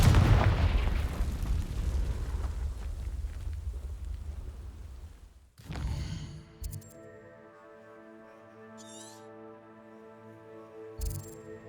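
Confringo fire spell cast in Hogwarts Legacy, a loud roaring blast with rumbling fiery debris that sustains for several seconds, then cuts off abruptly into quiet game ambience with a couple of later sharp hits.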